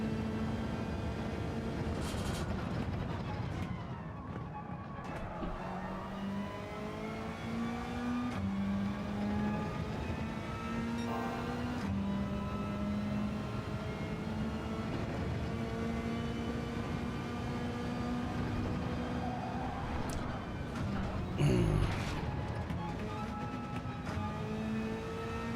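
Race car engine in Gran Turismo 7 on the Dragon Trail circuit, revving hard through a run of rising gear pulls with sudden pitch drops at each shift, a loud continuous in-game drone with no talking.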